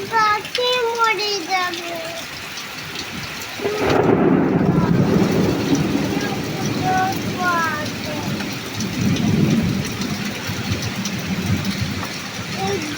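Steady rain falls with deep rolling thunder swelling midway, while high bird-like calls chirp over the downpour early and late.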